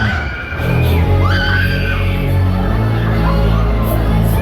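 Riders on a fast-spinning Skater fairground ride at a German fair scream together in a sustained chorus of shrieks, loud and close over the ride's rumbling machinery.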